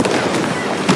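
A Confringo spell fires in the Hogwarts Legacy video game, a short burst of crackling, firework-like blasts with a few sharper pops over about a second.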